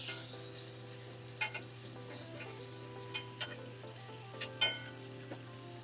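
Steaks sear in a hot pan with fresh thyme and rosemary sprigs, a steady close sizzle with scattered pops and small crackles throughout.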